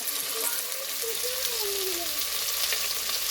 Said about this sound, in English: I'm going to let these onions cook down just a little bit